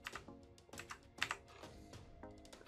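Brisk clicking on a computer keyboard as a command is typed, bursts of crisp keystrokes in quick clusters separated by short pauses, close and clear with no talking.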